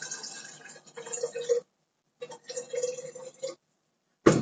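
Water pours into a cooking pot in two short runs with a gurgling fill, broken by a silent gap and ending in a brief clunk.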